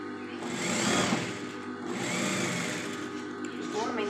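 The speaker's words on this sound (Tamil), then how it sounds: "நம்ம வந்து ஒரு 1/4 இன்ச் அளவுக்கு இப்போ தைக்க போகிறோம்." Sewing machine running steadily through a blouse seam at a quarter-inch allowance, a continuous whirring hum that swells and eases slightly, with a person speaking over it.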